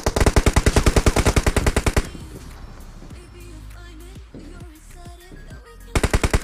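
M249 machine gun fire in a battle royale shooter, two loud rapid bursts of evenly spaced shots, one about two seconds long at the start and a shorter burst at the end, with quieter game noise between.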